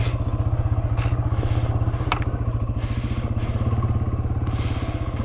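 A Yamaha TW200 motorcycle rides down a trail loaded with camping gear on its rack, its single-cylinder engine thrumming steadily and up close throughout, with occasional clatters and thumps from the rough ground.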